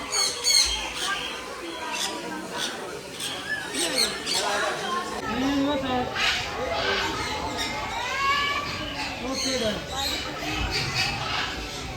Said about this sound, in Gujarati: ત્યાં અલગ અલગ પોપટ આવેલા છે